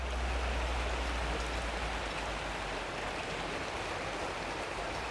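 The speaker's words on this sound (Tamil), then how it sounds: "எதிர்பார்க்காத மழை." Heavy, unexpected thundery rain pours down steadily in Malaysia, a dense, loud and unbroken hiss of downpour with no voices.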